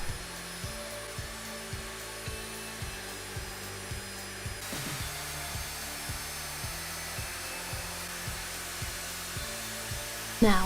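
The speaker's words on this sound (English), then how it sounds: "I'm just shaping down the handle and, finishing it up with the sander again." A power sander shaping the wooden handle of a carver's mallet runs as a steady, close whirring drone, with regular rhythmic bumps as the sander passes over the wood and a brief louder knock at the end.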